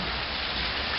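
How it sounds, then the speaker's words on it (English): Rain falls outdoors as a steady, close hiss of drops, even and unbroken through one brief moment. "I hear water running."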